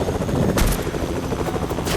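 Rapid bursts of Fortnite gunfire crackle over a steady helicopter-like engine drone, loud and continuous throughout.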